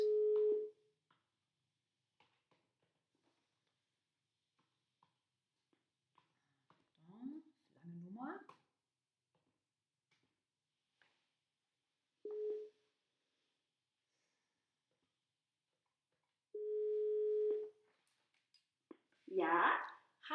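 A telephone call goes out, and a steady ringback tone sounds in separate bursts spaced several seconds apart, quiet and clear. Brief bits of speech come between the tones.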